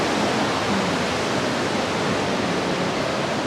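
An underground waterfall in a hidden cave in Mikawa Mu Valley gives off a dense, unbroken roar of rushing water, loud and even throughout, with no voices.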